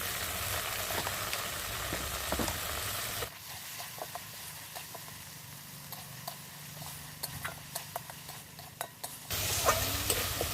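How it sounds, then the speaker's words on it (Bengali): Spices with salt, sugar and chili powder sautéed and stirred in a pan for rohu fish in sesame paste: a soft frying hiss with clicking, scraping spatula strokes, louder at the start and end and quieter in between, without speech. "ভালো করে সব মশলা কিন্তু আবার কষিয়ে নেব"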